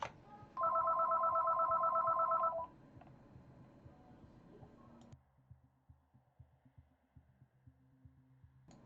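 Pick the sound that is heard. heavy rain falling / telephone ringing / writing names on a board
telephone ringing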